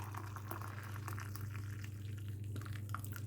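Hot water pours steadily into a cup of cafetière coffee at close range, a continuous liquid trickle with faint splashes over a low steady hum, no voices.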